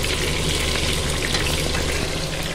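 Schnitzels fry in a pan with a steady, close sizzle and crackle that holds even and continuous, with no voices over it.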